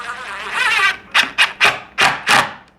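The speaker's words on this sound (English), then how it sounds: "And then this is our screws. We'll go ahead and drive one in." Screw being driven into a wooden bathroom cabinet: a long grinding burst of the driver biting in, then five short sharp rhythmic bursts as it seats, close and loud.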